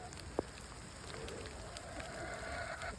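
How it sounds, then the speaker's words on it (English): Rain and hail fall on a farm in a soft, steady patter, faint and continuous, with one small sharp tap near the start and no voices. "The weather today has been hailing and rainy"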